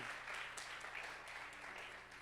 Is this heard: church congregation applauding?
yes